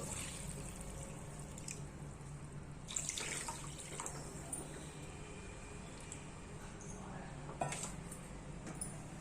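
Water runs and splashes into a metal pot for cooking rusk halwa, a steady wash of pouring with a few clinks of utensils against the pan.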